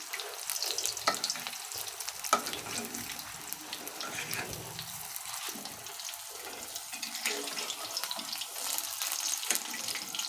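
Flower fritters frying in hot oil in a home kitchen, a steady close crackling sizzle with bursts of spattering throughout, no talking.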